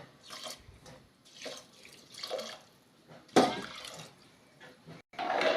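Water runs and splashes into a pot in uneven bursts while rinsing rice, with a louder pour near the end, close by and fairly quiet overall.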